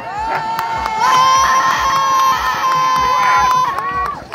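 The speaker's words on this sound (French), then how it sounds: "Vous pouvez déjà applaudir, acclamer Jean Comazard" A crowd cheers and shouts with children's voices among them as a musher sets off with his sled dog team at the Grande Odyssée race at Col de Porte, with whistle-like tones and a voice over the din.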